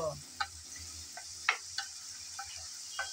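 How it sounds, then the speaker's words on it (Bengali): Chopped onions fry in fish-frying oil while being stirred: a faint, low sizzle under sharp clinks of a spatula scraping the pan at irregular intervals, with no talking. "পেঁয়াজ কুচি আমি নেড়ে চেড়ে হালকা ব্রাউন কালার করে ভেজে নেব।"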